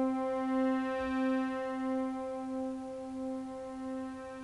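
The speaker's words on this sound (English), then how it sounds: "It's a modulating pad patch." A modulating pad patch on a Subtractor synthesizer sustains one steady harmonic-rich chord, its loudness swelling and dipping slowly in a regular wobble throughout, with no talking.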